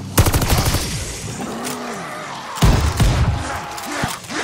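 Rapid automatic gunfire in Call of Duty Vanguard zombies mode, loud close bursts of shots with sharp impacts, pausing briefly and resuming, with faint game voices underneath.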